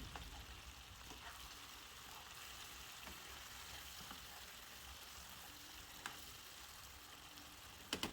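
Sausage cooking in a pan with tomatoes and onions gives a steady, quiet sizzle throughout, with faint crackles and a few soft clinks near the end.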